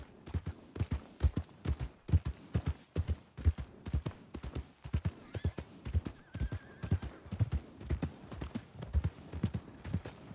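Horse hooves clip-clop steadily in Red Dead Redemption 2, a rapid, regular run of close, loud hoof strikes lasting throughout with no talk over them.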